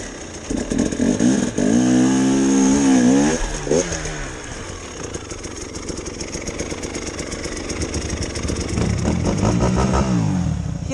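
A new motorcycle being ridden, its engine close and loud, revving up and down in rising and falling sweeps before settling into a steadier drone.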